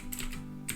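Computer keyboard typing, a few crisp key clicks over a steady low background hum, close and moderately quiet.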